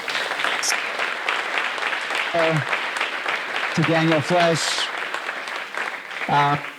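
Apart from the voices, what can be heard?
audience applause for a panel speaker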